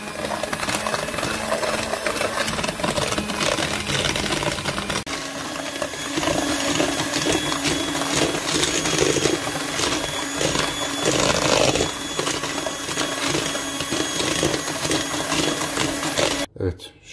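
An electric mixer whirs steadily at high speed, beating eggs for a layered brownie and cheesecake dessert. The loud, continuous motor drone runs for most of the clip and stops abruptly near the end.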